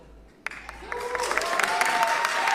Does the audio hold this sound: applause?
yes